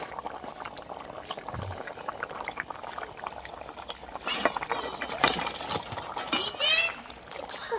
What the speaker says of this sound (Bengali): দেখুন ঝোলটা কিন্তু বেশ ভালো টকবক করে ফুটছে আর আলুটাও বেশ সেদ্ধ হয়ে গিয়েছে।